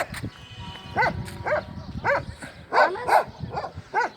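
A dog barks in a series of sharp, evenly spaced calls, about eight in four seconds, fairly close on a walk along the Avenue of the Sphinx toward Luxor in Egypt, with faint background murmur.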